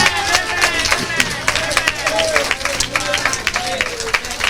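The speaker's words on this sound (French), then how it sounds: "on applaudit mon Dieu pour ça" A church congregation applauds in a dense, continuous mix of clapping that sits under singing voices and crowd babble, loud and close, with claps bursting out in an irregular rhythm throughout.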